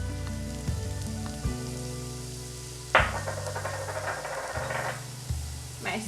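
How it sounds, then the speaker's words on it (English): Garlic, scallion and onion frying in a pan, with a steady hissing sizzle and occasional louder crackles and clatters, close and continuous, no talking. "going in with my scallion and onion as well"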